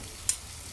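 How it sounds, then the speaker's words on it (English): A soft, steady sizzle of sausage frying, with one sharp little pop partway through. "you can see the sizzle on the outside"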